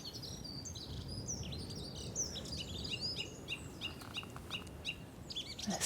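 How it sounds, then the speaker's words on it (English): Urban birds, including a chaffinch, call and sing from across an amphitheatre-like space, with bright overlapping chirps and phrases at moderate distance over a steady low background hum of the surroundings. "It feels to me like the bird calls are louder here than the ones back home"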